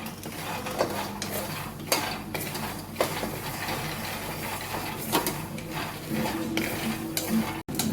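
Peanuts and sesame seeds dry-roast in a pan, giving a dry rattling and scraping as they are stirred and tossed, with periodic louder clatters of the utensil against the pan and a faint sizzle underneath.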